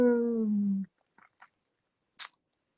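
A male dog lets out a single drawn-out, tonal bark that falls slightly in pitch, followed by a few faint clicks and one short, sharp noise in an otherwise quiet room.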